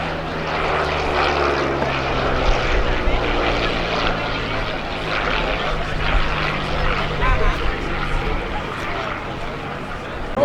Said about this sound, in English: This is the sound of the Allison V12 engine.